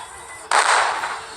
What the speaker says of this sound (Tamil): வெடிக்குது